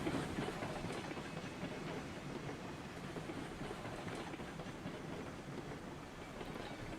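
Steam locomotive pulling away in the railroad game RailRoads Online, with wheels slipping as it starts: a dense, continuous chuffing and rumbling rattle, steady and moderately loud with no talking.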